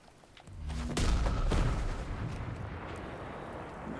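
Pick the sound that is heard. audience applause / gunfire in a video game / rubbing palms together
gunfire in a video game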